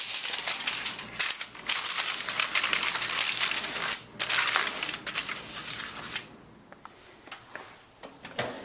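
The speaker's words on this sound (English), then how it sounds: "The pan gets covered with aluminum foil." Aluminum foil crinkles and crackles steadily as it is pressed over an 8-by-8, one-quart casserole pan of oven-baked chili; the sound is close and busy, then thins to a few scattered crackles near the end.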